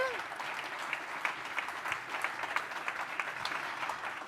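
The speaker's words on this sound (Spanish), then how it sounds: "Otro aplauso para él" An audience at a sports-respect forum applauds a guest being welcomed, moderately faint, steady clapping from a modest crowd with individual claps standing out, sustained throughout.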